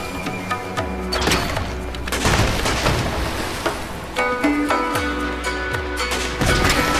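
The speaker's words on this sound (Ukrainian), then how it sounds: "А, він уже стріляє." Pirate ship cannons firing in the sailing game Sail Forth: a string of deep booming blasts with falling low rumbles, several in a row over steady ocean and rain-like game ambience, fairly loud.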